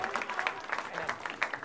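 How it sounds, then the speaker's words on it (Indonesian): Applause from a studio audience at an Indonesian stand-up comedy battle, a brief, fairly quiet burst of clapping with some voices blended in. "Tepuk tangan buat Bintang BT."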